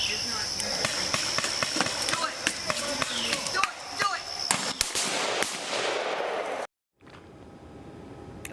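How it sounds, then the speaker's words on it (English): Police fire pepper balls in a rapid string of sharp pops and cracks, loud and close, with a few louder bursts before the sound cuts out abruptly. "you'll hear Sergeant Zachary Cash fire pepper balls at Williams"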